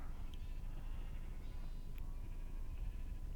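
Sheep in Minecraft's Attack of the B-Team modpack give a couple of short, nasal bleats over a steady hum of in-game background noise.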